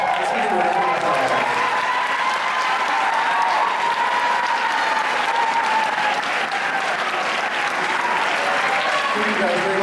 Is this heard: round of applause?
yes